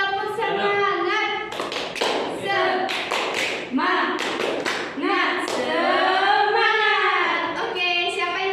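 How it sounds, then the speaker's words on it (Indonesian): A primary school class doing a rhythmic clapping chant, bursts of sharp group claps in patterned groups mixed with children's chanting voices, close and lively. "ayo kita tepuk semangat dulu ya. Tepuk semangat."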